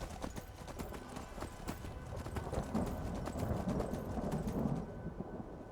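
Horse hooves clip-clop steadily in Skyrim, a continuous trotting rhythm at moderate loudness with a brief whinny, under a low rumbling game ambience.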